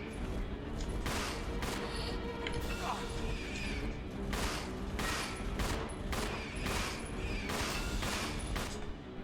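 Repeated gunshots in the Resident Evil 0 video game, a run of loud reports at irregular intervals over a dense, busy game soundscape, with a voice talking across much of it.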